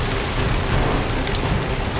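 Heavy rain pours down steadily in a storm, a dense continuous wash of noise with low rumbling underneath suggesting thunder, loud and unbroken throughout with no voices.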